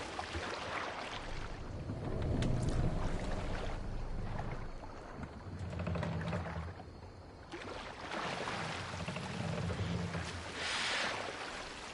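A Viking longship ploughs through waves at sea in Assassin's Creed Valhalla, with a rolling rush of water and wind that swells and ebbs in slow surges, low and full, with no voices.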